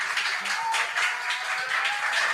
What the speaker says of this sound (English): A round of applause to all our girls this afternoon.